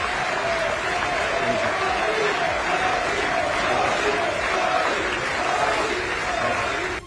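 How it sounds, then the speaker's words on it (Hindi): Applause mixed with rhythmic crowd chanting of a leader's name in the US Congress during Prime Minister Modi's address: loud, sustained, dense crowd noise with a repeating chanted pattern running through the whole stretch. "अमेरिका की संसद कभी तालियों की तड़तड़ाहट से तो कभी मोदी मोदी के नारों से गूंजती रही"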